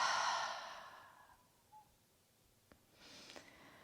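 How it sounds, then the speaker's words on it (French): A slow, full exhale through the mouth during a hip-focused yoga breathing exercise, a soft airy breath fading out over about a second, followed by quieter breathing sounds. "Expirez tout par la bouche."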